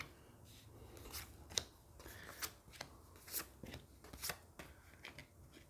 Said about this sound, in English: let me pull 6 cards for this